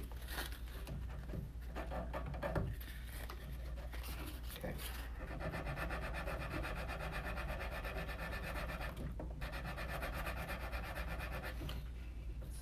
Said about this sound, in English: lot of times what I do is I use sandpaper.